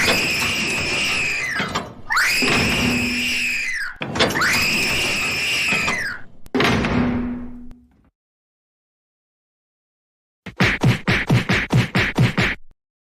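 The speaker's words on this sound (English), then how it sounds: "Seriously, that is enough screaming and slamming doors already." Cartoon-style screaming in long loud bursts alternates with abrupt slams, followed by silence and then a rapid series of sharp door-slamming bangs.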